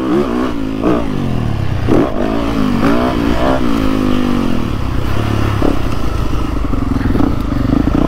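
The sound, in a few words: motorcycle engine revving on a rough track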